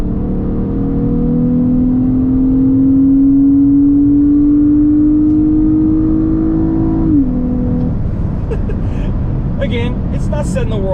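A Ford Fusion Sport with a 3.5L V6 on a polyurethane rear mount revs with a loud, steady drone that climbs slowly in pitch, then drops off abruptly as the revs fall, continuous and close throughout.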